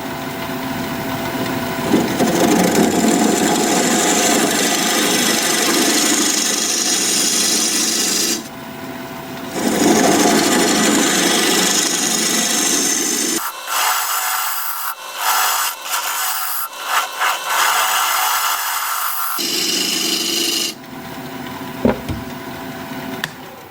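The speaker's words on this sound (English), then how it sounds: "we'll lay out for a recess. And for that I'll use a 1/2" bowl gouge" A 1/2 inch bowl gouge cuts into an acacia live-edge bowl on a lathe, giving a loud, continuous rough scraping and shaving roar with the spinning wood's hum, broken by short pauses and a stretch of quieter, choppy cuts.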